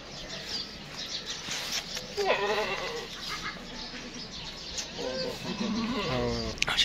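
A show goat that has just given birth to four kids bleats with the newborns, several short wavering cries rising above a busy rural background, with people talking nearby.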